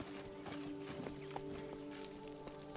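Geralt's horse Roach trots in The Witcher 3, steady rhythmic clip-clop hoofbeats at moderate distance over a continuous tonal background.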